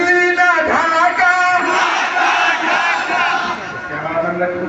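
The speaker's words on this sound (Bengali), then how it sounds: "বাম পাশে যারা দাঁড়িয়ে আছেন তাদের কাছ থেকে শুনবো দিল্লি না ঢাকা।" A large crowd at a Bangladeshi protest rally roars the slogan "Dilli na Dhaka" in loud unison, a dense, sustained collective shout close and filling the space for several seconds.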